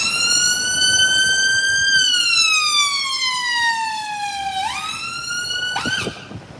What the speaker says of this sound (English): There's a siren for you, Peter Flegg.